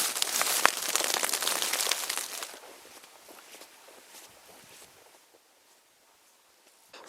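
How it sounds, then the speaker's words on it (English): Hail pelts the rain fly of a small shelter during a cold mountain storm in Utah, a dense loud crackling patter at first that thins to scattered, fainter ticks; no one speaks. "It started just as a rain, but I could tell it was pretty cold and might hail"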